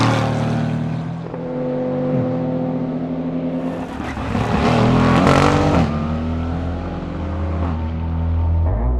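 A powerful GT race car at speed on a racing circuit, engine roaring loud and close as it climbs through the revs, swells to a harsher peak midway, shifts, then pulls hard again, with no talking.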